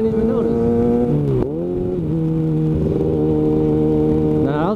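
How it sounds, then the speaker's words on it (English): A motorcycle engine drones at steady revs, then drops sharply and wavers through a rough downshift before climbing again. The engine is loud and close, heard from the rider's position on the road. "Nah, that was a terrible downshift."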